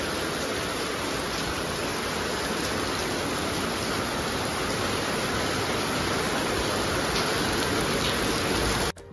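Steady, dense rain pouring down without pause, a continuous broadband hiss close by with no voices.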